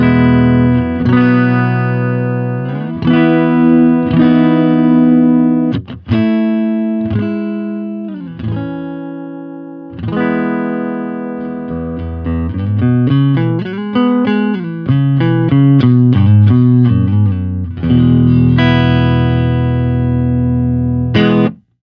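Clean electric guitar played on the neck pickup through a Supro Delta King 10 amp, a steady run of sustained chords and melodic single-note phrases, close and fairly loud throughout with brief pauses between passages.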